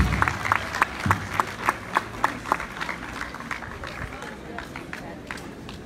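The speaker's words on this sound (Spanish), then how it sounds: "Fuerte el aplauso para la maestra Fátima" An audience at a school anniversary ceremony claps in uneven bursts, the rhythm rising then thinning out, with a voice talking underneath.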